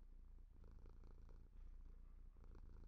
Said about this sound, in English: I love the sound of cats purring.